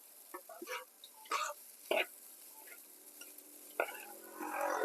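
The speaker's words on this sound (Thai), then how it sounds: "แล้วผัดคลุกเคล้าให้เข้ากัน" Spicy dry field rat being stir-fried with shredded kaffir lime leaves, salt and fish sauce: a few scraping spatula strokes against the pan over a faint sizzle, ending in a louder burst of frying.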